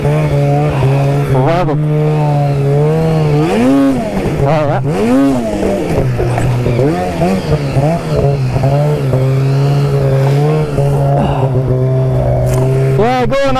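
A vehicle engine revs hard and loud while its tires spin and scrabble over a rocky, boulder-strewn trail, the note rising and falling continuously, with a voice speaking briefly over it.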